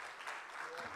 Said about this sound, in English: A round of applause again for our panelists.